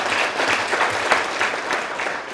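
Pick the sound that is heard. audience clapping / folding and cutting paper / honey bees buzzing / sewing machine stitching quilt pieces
audience clapping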